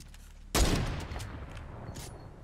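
A single heavy bolt-action sniper shot in Fortnite cracks out loud and close, followed by a long decaying echo and faint game ambience.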